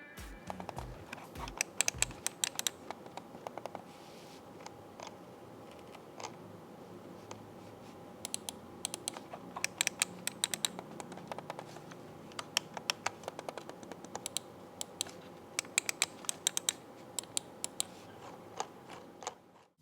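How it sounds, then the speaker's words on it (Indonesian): Switches of a Digital Alliance Rubix M102 wireless mouse clicking in a quiet room, sharp close taps coming singly and in quick bursts, some heavier thumps near the start, then an irregular patter of crisp clicks, with no talking. "contoh suara dari semua switch yang ada di mouse DA Rubix M102"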